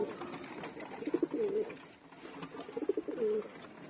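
Pigeons cooing close by, two rounds of low, throaty rolling coos separated by a short pause, with faint background noise.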